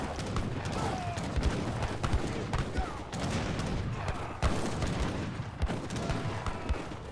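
Heavy artillery booms sound through an Age of Empires 3 battle, mixed with rattling musket volleys and sharp shot bursts in a busy, continuous barrage.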